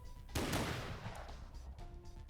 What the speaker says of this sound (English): a single gunshot cracked through the air, not aimed at its head, but at the ground beneath its feet